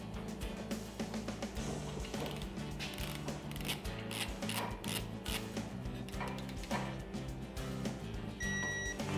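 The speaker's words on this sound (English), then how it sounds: "So we're torquing the studs to 15 foot-pounds." Torque wrench ratcheting as engine studs are tightened to 15 foot-pounds during an LS engine rebuild, a close rapid clicking and mechanical grinding that continues steadily throughout.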